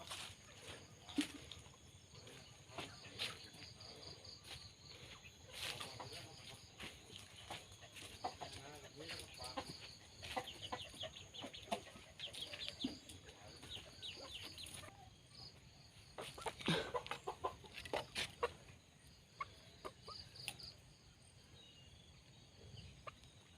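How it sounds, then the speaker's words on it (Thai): Free-ranging domestic chickens on a rural Thai farm beside rice fields in the evening, faint clucks and scattered calls repeating over steady insect chirping, with someone talking at times. "นี ่ก็เป็นไก่บ้านที่เราเลี้ยงไว้นะคะ"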